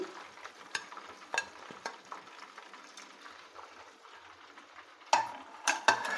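Chicken pakodi fries quietly in hot oil with a faint, soft bubbling, punctuated by several sharp utensil clinks and scrapes nearby.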